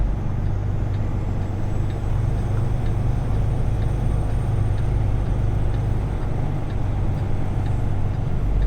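A loaded flatbed truck backs in at a loading yard in Endicott, giving a steady, close diesel engine drone with low rumble throughout and no talk.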